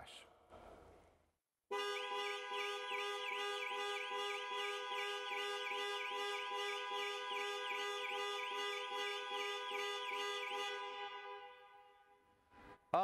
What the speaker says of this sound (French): Le dernier bouton déclenche l'alarme